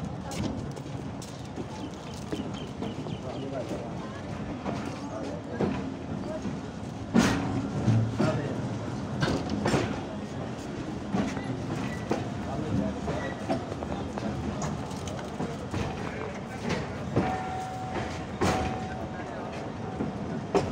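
The Frontier Mail passenger train pulling out of Khanpur Junction station, heard from on board as a steady rumble with rhythmic wheel clatter and occasional clanks, with voices talking nearby.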